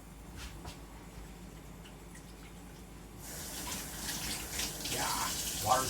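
Cold water starts running from a household tap partway through, a steady rushing splash that follows a quiet stretch with faint handling noises.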